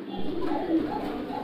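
Fancy pigeons at Saiful's farm in Natore give soft, low cooing, close by and continuous for the whole moment, with a faint murmur of voices mixed in.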